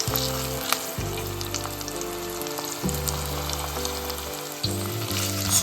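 Mustard seeds and rough-cut red onions sizzle steadily in hot oil for a Sri Lankan okra curry, a continuous close frying crackle with a low rhythmic musical hum running beneath it.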